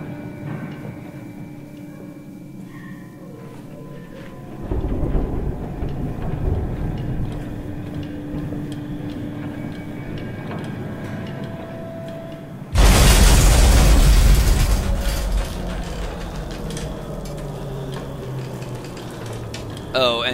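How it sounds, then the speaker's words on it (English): Barrel milking machines breaking in the horror game Amnesia 2, heard as a low rumbling crash that swells about halfway through, then a louder sudden burst of noisy clatter in a dark, droning setting. "that sound is the barrel milking machines breaking"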